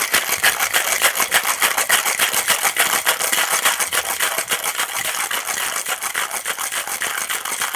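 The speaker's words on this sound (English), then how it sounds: "Shake it up." Ice rattles hard inside a cocktail shaker as a Bloody Mary is shaken, a dense, steady rapid rhythm of clattering cubes running loud and close throughout.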